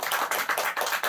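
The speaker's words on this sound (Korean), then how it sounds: "박수 한번 이 집에서 박수 한번 쳐야" A small group of listeners at a religious study retreat lecture claps in a quick, uneven burst, the hand claps close and crisp with a pulsing rhythm, no talking over it.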